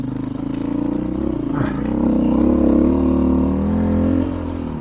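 A dual-sport motorcycle rides a Colorado trail, its engine droning loud and close, swelling into a stronger rev midway before easing off slightly.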